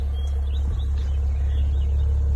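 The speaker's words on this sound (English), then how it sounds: "That's that Maserati truck. Y'all heard that engine?" A Maserati Levante SUV engine gives a deep, steady low rumble close by, with faint bird chirps above it.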